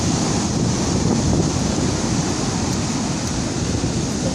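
Stormy sea surf pounds the pebble beach at Lazarevskoye in a dense, continuous roar, with wind buffeting the microphone throughout and no voices.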